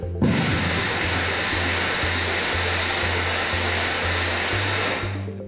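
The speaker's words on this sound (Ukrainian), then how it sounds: "Шум від цього приладу може сягати 150 дБ." Noise-generating device in an acoustic testing laboratory: a loud, steady broadband roar like rushing air switches on abruptly, holds at full strength for about five seconds under a low pulsing hum, then cuts off, with no voices.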